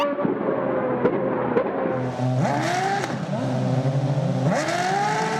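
A Formula One racing car engine revs up and shifts through gears in rising, whining sweeps, loud and close, with repeated climbs in pitch over a few seconds.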